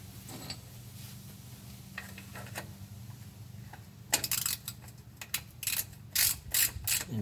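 A drain plug with Teflon tape on its threads is turned back in with a ratchet, soft handling noises at first, then bursts of crisp metallic ratchet clicks close by.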